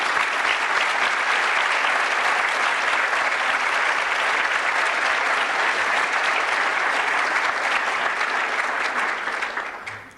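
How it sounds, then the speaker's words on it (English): Steady, dense applause from a large audience at a commerce class of 1993 reunion evening, continuous loud clapping for about ten seconds before trailing off at the end. "Please give them a round of applause."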